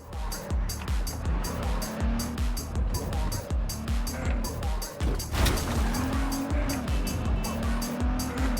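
Car driving in the video game Cyberpunk 2077, with a steady engine drone and a tire squeal partway through, mixed with game music and effects.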